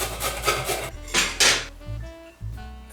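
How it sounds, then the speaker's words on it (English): Fresh ginger rubbed against a grater for a meatball curry, a few quick rasping strokes close up, followed by light clinks of kitchenware. "grate some ginger"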